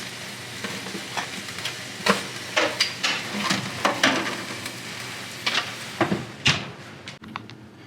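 Steaks sear in a hot pan alongside asparagus, a continuous sizzle punctuated by repeated clacks and scrapes as the meat is turned with tongs or a spatula for even browning.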